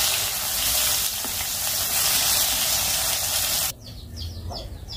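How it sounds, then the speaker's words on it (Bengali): Fish fries in hot oil on a stove, a loud steady sizzle that cuts off abruptly near the end, leaving faint kitchen noise and a few clinks. "মাছটা খুব সুন্দরভাবে ভাজা হয়ে গেছে"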